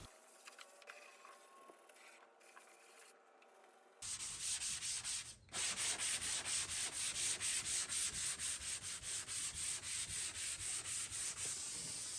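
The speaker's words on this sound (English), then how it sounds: "I'm going to give it a nice little scuff sand" Steady rhythmic rasping of sandpaper scuff sanding primed IKEA laminate furniture, rubbed back and forth, close and even, after a few seconds of quiet handling noises.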